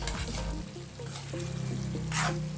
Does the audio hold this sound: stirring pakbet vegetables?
yes